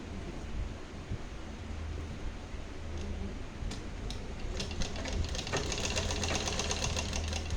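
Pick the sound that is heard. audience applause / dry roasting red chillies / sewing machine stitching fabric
sewing machine stitching fabric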